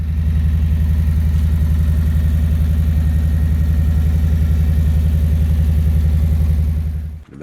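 A motorcycle engine idles steadily and loudly up close for several seconds in the rain, with a low, even, throbbing pulse and no talking over it, before cutting off abruptly near the end.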